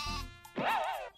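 A sheep bleats in the video game Croc: Legend of the Gobbos, one loud, wavering, nasal cry with a short game sound just before it, close and alone with no talk.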